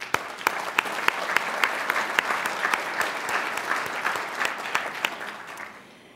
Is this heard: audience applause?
yes